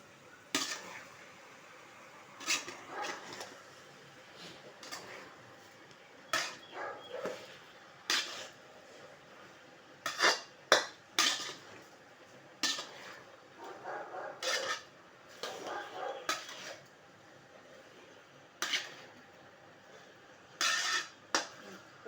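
Tomatoes sauté for thakkalai chutney as a spoon stirs and scrapes them around a metal pan, giving soft irregular clinks and taps over a faint background hiss, fairly quiet and close.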